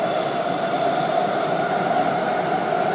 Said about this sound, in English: This train's not really that loud at all